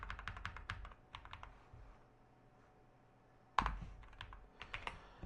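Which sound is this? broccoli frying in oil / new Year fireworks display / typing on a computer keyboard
typing on a computer keyboard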